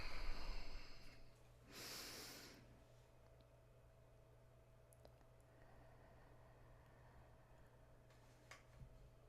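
Deep, slow breaths during a guided group breathing moment, one long inhale-exhale heard close and soft, followed by a quiet steady background hum.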